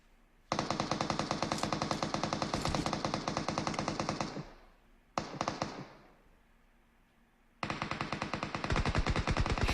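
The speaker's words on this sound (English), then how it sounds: "Shots are going off from all angles." Automatic gunfire in PUBG Mobile during a tournament match: long, rapid, loud bursts at a steady fast rhythm, one trailing off, a brief burst, then another sustained volley.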